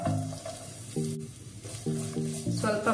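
Chopped garlic and ginger sizzle steadily in hot oil in a pan for restaurant-style mixed fried rice, a close, continuous crackle broken by a few brief tonal beeps in the background.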